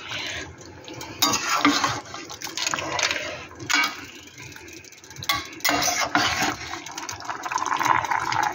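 Chicken korma with garam masala is stirred in a pot, producing repeated bursts of spoon scraping and metal clatter with a faint sizzle beneath, loud and close.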